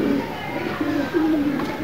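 Pigeons coo in a series of soft, low warbling calls, close by and fairly steady across a short stretch with faint background noise.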